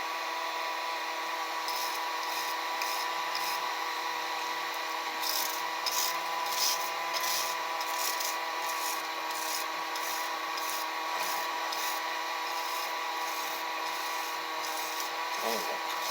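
Steel gun parts rubbed against a spinning wire brush wheel to card them during express bluing, a steady whirring drone with rhythmic bursts of scratchy brushing, close and continuous.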